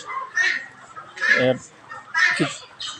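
Free-range native chickens clucking where they roam together with ducks, in short repeated bursts close by, loud against a quiet background.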